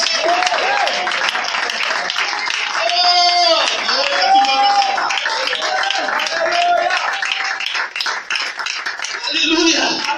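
A church congregation applauds continuously and loudly through the whole stretch, with voices shouting and cheering over the clapping.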